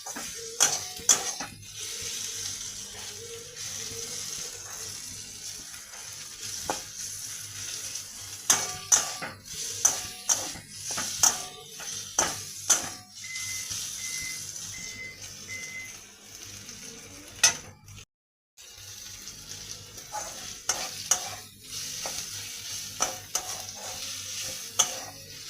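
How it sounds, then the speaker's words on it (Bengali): Ginger-garlic paste sizzles in a hot wok while a utensil scrapes and stirs in repeated bursts, close and clear, with short scraping clinks over a low steady fry and a brief quiet gap midway. "আদা রসুনটা ততক্ষণই নাড়বো যতক্ষণ না কাঁচা গন্ধটা চলে যায়।"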